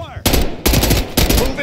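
Rapid automatic gunfire in the video game Call of Duty: Black Ops 6, with three loud, dense bursts close by, separated by very short pauses.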